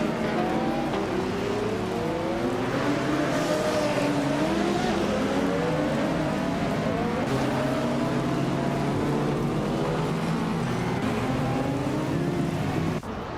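Several race cars battling on a track, probably in a video game, hold a continuous layered engine whine with shifting pitches as they jostle, steady and loud throughout without pause.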